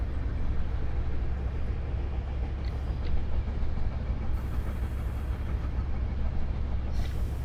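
A Class 70 diesel freight locomotive in Train Sim 2020, on the North London line near Willesden, gives a steady low engine drone and rail rumble that runs throughout. Faint high hiss and clicks sit on top.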